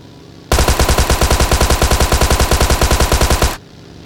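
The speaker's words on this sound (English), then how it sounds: "start shooting at him" Rapid automatic gunfire in a video game, a steady burst of evenly spaced loud shots lasting about three seconds, alone with no talk.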